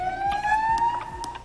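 An ambulance siren sounds as the ambulance arrives at a worksite, a steady wailing tone sliding gradually upward at moderate distance, with faint knocks and clatter under it and no talk.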